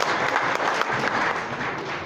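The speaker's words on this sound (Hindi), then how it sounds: "प्लीज़ एक बार ज़ोरदार तालियां" An audience at an Indian organisation's event claps steadily and loudly, a continuous dense wash of applause with no voices.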